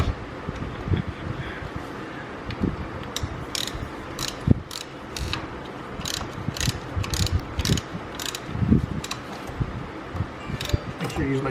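A ratchet wrench fitted with a torque elbow clicks in fast, uneven runs under the hood of a 2013 Ford Raptor SVT during a tune-up, close and crisp, with someone talking throughout.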